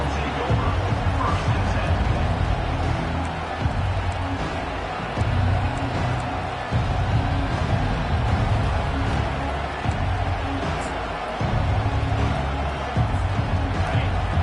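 Stadium crowd noise from a college football video game, a steady loud roar of cheering and babble that surges and dips throughout, with commentary voices talking over it.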